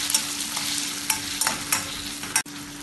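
Two small chopped tomatoes being stirred and sautéed in a pan for an egg gravy, a steady sizzle with several distinct scraping stirs and one sharp knock near the end, close up and without speech.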